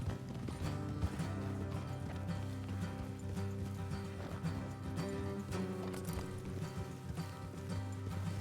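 Horse hooves clip-clop steadily in Red Dead Redemption 2 over a layer of background music, continuous and fairly close throughout.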